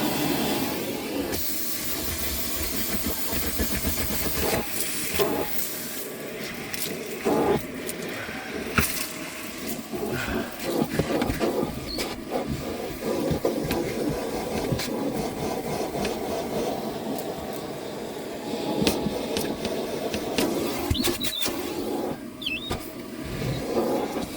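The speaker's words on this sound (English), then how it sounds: "Not the most powerful hoover in the world, but for now it'll have to do." A modest household hoover runs steadily while cleaning the inside of a car, giving a continuous whooshing hiss with shifting tone as the nozzle moves, close and fairly loud throughout.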